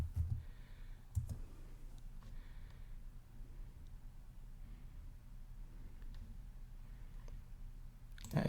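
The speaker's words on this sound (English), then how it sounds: "I click on this" A computer mouse clicks a few times, quiet and close, with one sharp click early and another at the very end over a low hum, while working in the AWS S3 web console.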